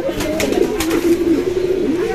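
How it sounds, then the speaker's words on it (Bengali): A male khaki Musallum pigeon coos in a steady, close, moderately loud run of throaty calls with no talking. "এই যে নটা ডাক দিচ্ছে"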